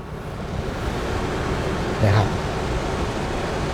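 Rear air conditioning in a Mitsubishi Space Wagon seven-seat MPV blows a steady, loud airflow hiss with a brief surge partway through, filling the cabin without any talk.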